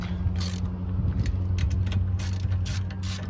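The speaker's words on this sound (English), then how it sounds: "then you want to take your ratchet and tighten them on" Ratchet tightening wheel spacers on a car, giving a continuous close mechanical clicking and whirring with a low hum underneath.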